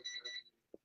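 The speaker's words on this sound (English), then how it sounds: "The something is beeping in the room" An electronic device beeps indoors, a pair of quick high-pitched tones followed by a soft thump, faint and brief in a quiet room.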